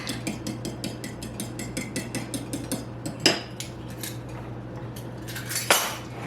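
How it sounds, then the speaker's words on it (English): A utensil stirs eggs in a metal pot for brownie batter, a brisk, even series of close metallic clinks against the pot wall, broken by a couple of louder knocks. "I'm going to stir these eggs up just a little bit."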